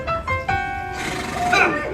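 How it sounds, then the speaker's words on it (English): A horse neighs as Maximus, the royal guard horse, in a live Rapunzel stage show at Disneyland, the whinny loud and close, rising and trembling over about two seconds with a brief quieter lead-in. "That's Maximus, a horse of the royal guard, and he's after me."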